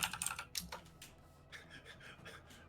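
Quiet computer keyboard typing in short bursts of light key clicks, with a pause in the middle before the clatter resumes, faint and close with no talking.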